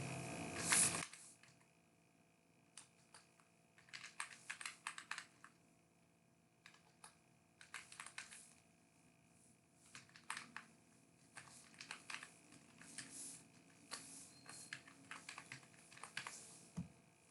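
Bursts of quick keystrokes on a computer keyboard, clicking in short uneven runs separated by pauses, close and quiet in a still room.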